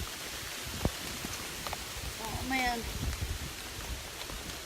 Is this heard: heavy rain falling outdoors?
yes